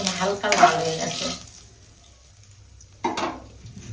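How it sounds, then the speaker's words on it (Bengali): Cumin seeds frying in oil left over from frying fish, a hissing sizzle with a stir that fades into quiet before a second short burst of sizzling. "এবার মাছ ভাজার তেলে আমি অল্প করে কটা সাদা জিরে দিয়ে দেবো। এই যে খুবই অল্প, একটু হালকা একটু নাড়া দিয়ে দেবো।"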